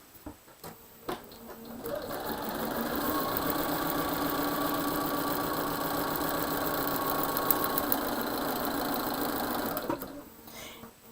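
A sewing machine stitches through paper on a foundation-pieced quilt block, running steadily for about eight seconds after a few brief starts, a close, even mechanical whir with no talking.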